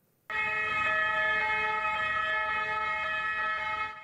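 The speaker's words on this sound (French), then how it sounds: "toutes sirènes hurlantes entre la Beaujoire et la préfecture" Ambulance sirens cut in abruptly and blare loudly and continuously, a piercing steady wail close by with no voices, on a street in Nantes.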